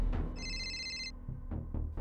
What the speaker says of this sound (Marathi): रिंग वाजते